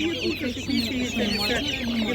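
Hens cluck in a short, busy run of soft repeated calls at an animal market, close by, with a faint murmur of people in the background.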